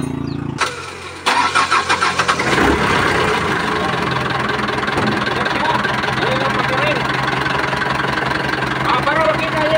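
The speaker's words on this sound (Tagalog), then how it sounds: "So ating ipakita sa inyo kung madali bang paandarin to" A truck engine cranks and starts, then settles into a loud, steady running rumble with a knocking beat, while someone talks over it.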